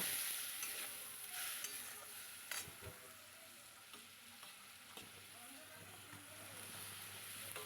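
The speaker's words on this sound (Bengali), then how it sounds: "হলুদও দিয়ে দিচ্ছি সামান্য জিরের গুঁড়ো ধনের গুঁড়ো একটু জল দিয়ে এবার কষিয়ে নেব" Turmeric, cumin and coriander powder sautéing with a splash of water in a pan, a steady soft sizzle with occasional stirring scrapes and clinks, close and moderately quiet throughout.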